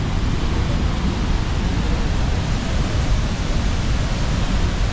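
Horseshoe Falls at Niagara Falls roars in a dense, unbroken wash of noise, loud and steady from start to finish.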